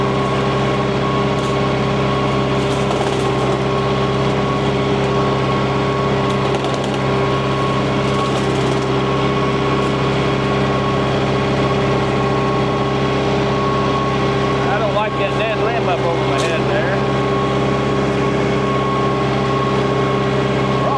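A Landhonor articulating brush cutter runs continuously on a small engine with a loud, steady droning hum and buzzing harmonics, close by, with slight variations in pitch as it works through the ground.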